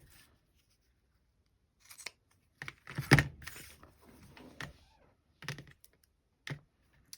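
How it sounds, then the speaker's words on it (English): Paper being cut by hand with scissors for a junk journal made from a blue file folder, calendar and music page: a few separate snips and crisp crunches, close and fairly quiet, spaced out with pauses between. "let me cut this a little bit longer than what I need as well"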